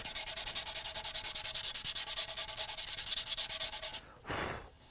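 Hand sanding of epoxy pore filler on a guitar body being prepped for an aerosol finish: fast, even back-and-forth rasping strokes, close and steady, ending with a brief soft whoosh like a wipe or blow.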